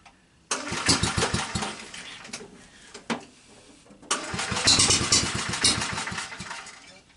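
Kohler K91 small gas engine on a three-wheel hauler cranks with rapid pulsing chugs, stutters briefly, then catches and runs loud and close with a rough, uneven idle.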